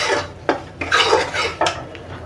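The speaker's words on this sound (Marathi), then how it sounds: "आता आपण हा मस्त खरपूस असा भाजून घेऊया रवा." Semolina (rava) is stirred in a pan for Satyanarayan prasad, a metal spoon scraping and clinking against the pan in four or five quick strokes, close and fairly loud.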